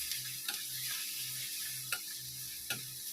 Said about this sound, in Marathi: कच्चा वास जाईपर्यंत त्याला आपण परतून घेणार आहे